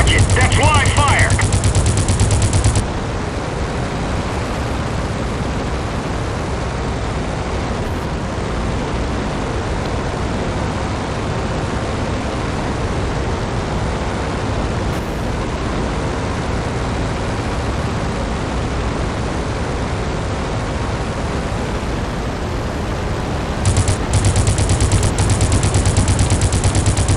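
Machine-gun fire rattles on without a break in the Crimson Skies video game: a dense, loud, noisy burst that fills the whole stretch, with louder blasts at the start and end.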